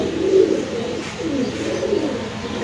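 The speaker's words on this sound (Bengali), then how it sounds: "তো এখানে আছে এক জোড়া সাদা বিউটি কবুতর।" A pair of white beauty pigeons coo softly and repeatedly, low throaty calls rolling close by for a few seconds with no talk over them.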